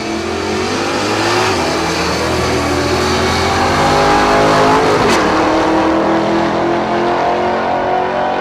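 Corvette and Mustang drag racing side by side at Texas Motorplex, Ennis, Texas: loud, close engines roar and rise through gears in a steady wall of sound, with a sharp pass-by moment midway.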